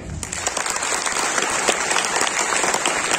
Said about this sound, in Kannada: ನಿಮ್ಗೋಸ್ಕರ ಒಂದು ಚಪ್ಪಾಳೆ